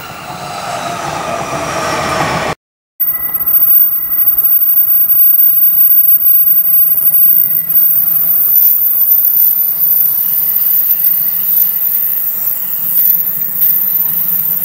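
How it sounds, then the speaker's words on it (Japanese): A local train bound for Omiya rolls loudly into a Japanese station, rumbling and rattling close by with faint squeals from the wheels, after a brief drop in sound. "番線に各駅停車大宮行きが参ります。"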